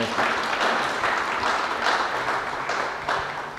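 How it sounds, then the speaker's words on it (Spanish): Lecture audience at a university conference series applauding a speaker, steady dense clapping throughout, moderately distant and without speech. "Por favor, un aplauso a nuestro conferencista."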